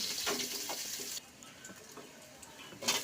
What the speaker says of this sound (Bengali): তারপর পেঁয়াজ কুচি, রসুন কুচি, এগুলো একটু ভাজা ভাজা করব।